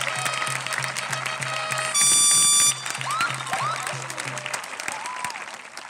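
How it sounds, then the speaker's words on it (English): Applause from the crowd for the counselors at a high school graduation ceremony, sustained clapping with a steady low hum and brief tonal bursts and chirps mixed in. "How about a nice round of applause for our counselors"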